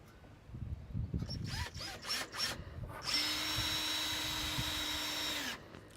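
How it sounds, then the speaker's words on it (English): A power drill bores a weep hole into the bottom rail of an Intex Liberty above-ground pool. A few brief rattles and clicks lead into a loud, steady whine lasting about two and a half seconds, then it stops. "we drill a weep hole roughly 3 inches back from either end"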